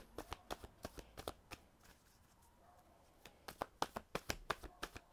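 Tarot cards are shuffled and drawn by hand up close, a quick run of crisp riffling flicks, then a pause, then another rapid burst of papery snaps.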